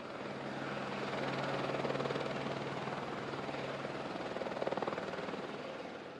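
A helicopter hovers and works close overhead, lowering a cage carrying workers onto suspension bridge cables, its steady loud rotor and engine roar continuous throughout with slight swells in intensity, no voices.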